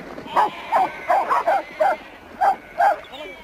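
Sheepdogs working in a hot, dusty sheep yard give a string of about eight sharp barks and yips at uneven intervals, fairly close and clear above quiet background noise.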